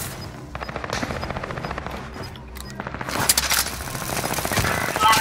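Gunfire in Call of Duty: Modern Warfare rattles in rapid automatic bursts, first moderately loud, then swelling into denser, louder volleys toward the end, with no talk over it.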